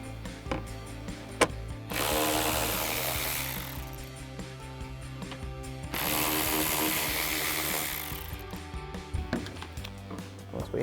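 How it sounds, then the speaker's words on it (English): A ratchet with a 10mm socket backs out two bolts holding a trim panel on a Ford Bronco, two long bursts of rapid clicking close by, separated by quieter handling noise. "we'll grab our 10mm socket on our ratchet, remove the 2 bolts holding it in"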